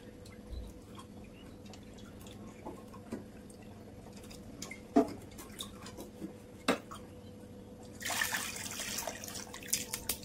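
Water poured for cooking in a home kitchen, with a steady splashing pour near the end after a stretch of faint clinks and drips from pots and utensils.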